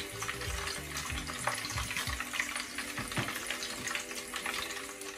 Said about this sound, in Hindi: बिल्कुल इसी तरह से मैं जो बाकी के कबाब हैं वो भी फ्राई कर लेती हूँ